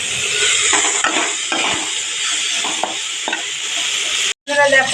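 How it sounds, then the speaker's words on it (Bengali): Bitter gourd fries in a pan with a loud, continuous sizzle close up, broken by a few soft stirring scrapes and knocks against the pan, then a brief cut near the end before the sizzle returns. "আর এদিকে দেখো উচ্ছে ভাজা হচ্ছে, উচ্ছে ভাজা"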